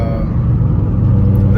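A Shelby GT500, recently fitted with a Gates Green HD belt after belt slip, drives with a loud, deep, continuous engine and road rumble that holds steady throughout, with no voices.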